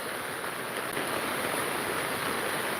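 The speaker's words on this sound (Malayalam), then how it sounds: "നല്ല മഴ പെയ്യുന്നുണ്ട്" Heavy rain pours down over flooded roads beside an empty auto-rickshaw stand, an unbroken dense hiss that stays loud and even, close by, with no other sounds standing out.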